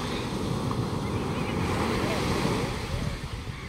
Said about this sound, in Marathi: हे असं समुद्राचे लाटा